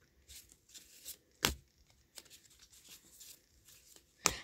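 A smaller tarot card deck is shuffled by hand, giving soft papery riffles and rustles with two sharper snapping bursts as the cards are bridged together.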